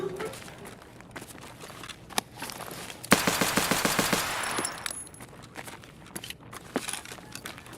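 Rapid burst of automatic gunfire in a shooter video game, a few seconds of fast repeated shots amid scattered footsteps and small game noises, with quiet voice chat around it.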